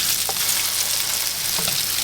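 Zucchini fritters sizzle and fry steadily in a hot pan, a continuous close crackle with a couple of brief soft stirring or turning sounds, no voices.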